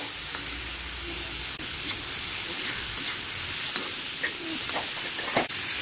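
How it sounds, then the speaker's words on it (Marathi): Onion sizzles and fries in a pan until reddish, a steady close hiss with occasional light scrapes of stirring and no voices. "कांदा छान असा लालसर होईपर्यंत आपण छान भाजून घ्यायचा आहे"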